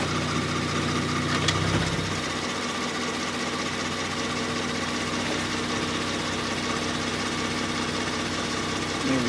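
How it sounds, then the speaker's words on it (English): A 2019 Kia Stinger engine idles steadily while warming the transmission, a constant mid-pitched hum with light mechanical ticking, heard close and unchanging throughout. "we're going to let it run here and get it warmed up to that temp that we want there"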